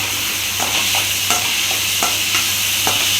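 Tomatoes and onions with salt sautéing in a pan, a constant loud sizzle broken by regular scraping strokes of a spoon stirring, roughly every half second, with no voices.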